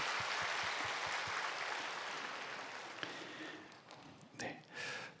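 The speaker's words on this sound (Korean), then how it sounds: "자리에 서 주시면 박수로" A church congregation at a Wednesday morning service claps to welcome visiting guests, a soft sustained patter of applause that fades toward the end as a few louder sounds break through.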